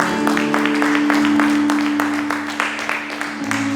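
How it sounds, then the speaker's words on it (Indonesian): A Sunday worship congregation claps in a dense, steady burst over sustained music tones in the church hall. The applause stays full and continuous throughout, thinning slightly toward the end. "Tepuk tangan yang meriah untuk Tuhan"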